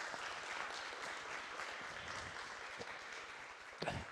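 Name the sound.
audience applause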